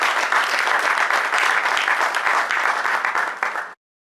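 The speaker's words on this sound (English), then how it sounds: "let's give him a round of applause" An audience at an alumni formalization ceremony claps loudly and steadily for a speaker introduced to give an opening address, the applause ending abruptly before a brief silence.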